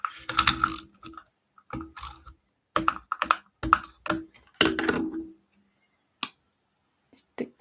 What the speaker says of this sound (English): Double-sided tape on the back.